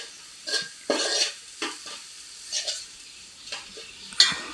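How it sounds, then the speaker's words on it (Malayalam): Spoon stirring chilli and coriander powder into a frying fish curry base, a series of soft, uneven scraping strokes against the pan over a faint sizzle, close by with no talk. "മല്ലിപ്പൊടി ഇട്ട് കൊടുത്തതിന് ശേഷം നന്നായി ഒന്ന് ആ പച്ചമണം മാറുന്നത് വരെ ഒന്ന് ഇളക്കുക"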